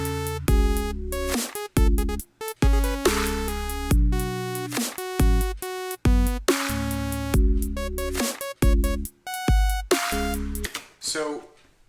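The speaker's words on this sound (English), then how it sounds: "I wrote a melody on top which sounds like this." A synth melody playing over a looping chord progression and drums, bright stepped notes in a steady rhythm throughout, loud and clear, fading at the end.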